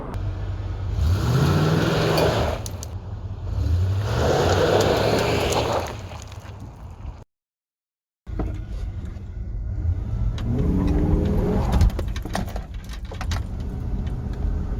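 A restored 1992-97 Ford F-150 pickup driving, a loud steady engine and road roar with a couple of swelling revs, a brief cut to silence midway, then cruising again, with no talk.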